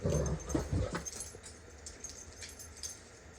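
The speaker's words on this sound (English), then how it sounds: "the cat and the dog just have to be loud and obnoxious" A dog whimpers and yips in a brief, fairly close burst at the start, then trails off into quieter, fainter noises with no talking.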